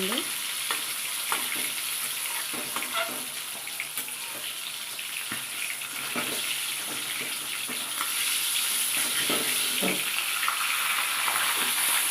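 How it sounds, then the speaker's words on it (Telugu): Fish fries in a pan with a loud, constant hiss and scattered popping crackles, close up and steady throughout. "ఇలా వేసుకుంటే అది కూడా నీట్గా ఫ్రై అవుతుంది"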